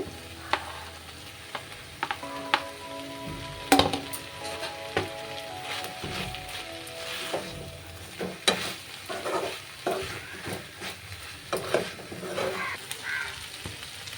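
Fried badi and eggplant sizzling in a pan with potatoes, a continuous hissing fry broken by scraping stirs and spoon knocks, while crows caw faintly in the distance.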